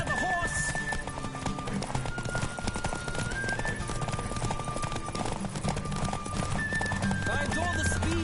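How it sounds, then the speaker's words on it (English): Galloping horse hooves in the video game Witcher 3 make a fast, continuous clip-clop under steady game speech and background music, with an occasional whinny. "Don't spare the horse!"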